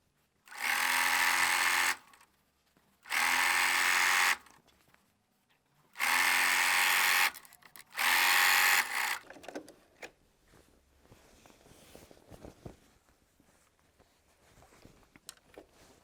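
A sewing machine stitches a quarter-inch seam on a patchwork table runner in four loud, steady whirring bursts, each about a second or two long with short pauses between, followed by quieter handling clatter.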